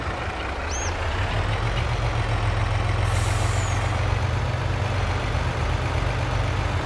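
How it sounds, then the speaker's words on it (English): A heavy truck engine idles steadily with a deep, continuous rumble in Farming Simulator 22, joined midway by a brief hiss of air brake release. "Very nice truck indeed. Sounds awesome."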